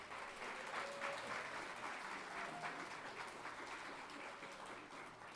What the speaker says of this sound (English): a round of applause for the fact that we are here together